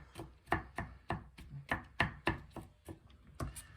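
A knife chops garlic on a cutting board while preparing a keto bouillabaisse: close, crisp strikes in a steady rhythm, about ten chops with no talking.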